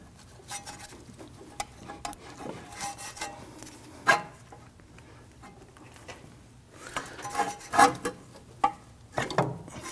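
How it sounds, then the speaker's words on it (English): A pry bar levers against the lower control arm of a Ford Taurus, giving scattered metallic scrapes, creaks and knocks at close range, with sharper clanks around the middle and toward the end, and no voice heard. "I'm going to use a pry bar in the lower control arm here."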